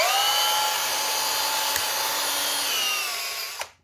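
A DeWalt DC988 cordless drill runs steadily in its high-speed, low-torque gear after gearbox reassembly, a sustained high whine close by that winds down abruptly at the end.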